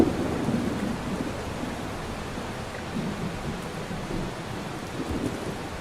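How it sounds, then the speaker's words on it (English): Loud thunder rumbles in Rain World over a dense wash of pouring rain, a deep rolling roar that swells and recedes across several seconds with no voices. "I know Thunder is supposed to be loud, but, like, it's just surprising compared to everything else in the game"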